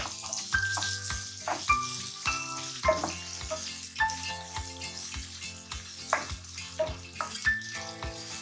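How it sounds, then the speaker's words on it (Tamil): Finely chopped onions fry over high heat until golden for a paneer gravy, giving a steady close sizzle with occasional stirring scrapes and clinks. "பொன்னிறம் வர வரைக்கும் கொஞ்சம் வதக்கிக்கலாங்க."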